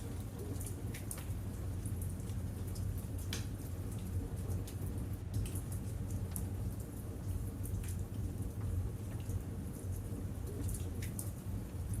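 Steady rain pattering against windows, a continuous soft hiss with scattered light drops and a low rumble beneath, no voices.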